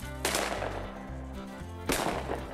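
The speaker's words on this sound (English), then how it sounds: "Two shots, no quail." Two shotgun blasts from a bobwhite quail hunt in Georgia, close and loud, the first near the start and the second about two seconds later, each with a brief rolling decay outdoors.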